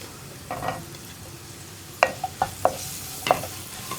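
Chopped tomatoes go into a pan of cooking chana masala spices, with soft sizzling under a few sharp clinks and scrapes of a spoon stirring against the pan.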